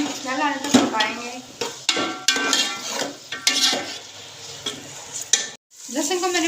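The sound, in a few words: ginger garlic paste frying in a pan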